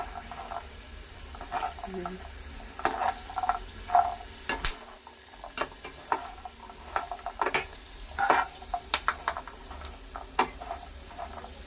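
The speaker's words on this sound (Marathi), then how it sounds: "बदामाचा आता मस्त असा कलर बदलायला लागलेला आहे आणि त्याला तडाही जायला लागलेला आहे ते असे तळले असं आपल्याला समजू शकतं" Almonds for dry fruit laddu fry and crackle in a pan under a low sizzle, with frequent scraping and clinking as they are stirred, each close stir coming through in bursts.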